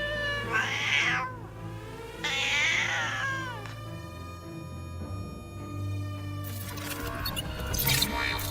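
Cats meow nearby: two drawn-out, wavering yowls in quick succession, then a quieter stretch, and a final sharper cry near the end.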